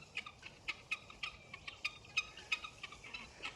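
Guinea fowl foraging for bugs give a rapid series of sharp, rhythmic, cackling calls, repeated roughly every quarter second, faint and somewhat distant.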